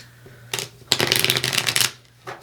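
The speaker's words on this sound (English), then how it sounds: "Let me give it a nice little shuffle." A marbled oracle card deck being shuffled by hand: a short riffle burst, a pause, then a longer dense flurry of crisp card flutters and a brief final riffle, close and alone with no talk.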